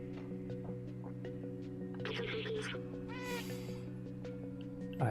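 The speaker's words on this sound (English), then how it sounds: "And I meow." Cat meows from the video game Stray, a couple of short mewing calls over a steady electronic hum from the game, with a person talking quietly in between.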